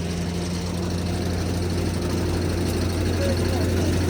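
A tractor engine runs at a steady, loud, close drone with a low rumble during straw-making work on a farm, holding a constant revving pitch throughout.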